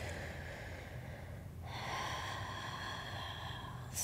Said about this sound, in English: Breathing here, in and out through the nose.